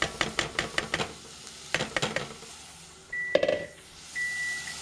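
Chopped mushroom stems stirred into a hot pan, with rhythmic scraping strokes at first and then a steady sizzle of frying. A couple of short electronic beeps sound near the end.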